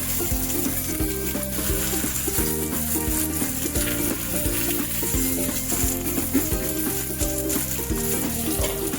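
A rice flour thalipeeth cooks on a pan with a loud, continuous sizzle and frying crackle that carries steadily throughout, with no talking.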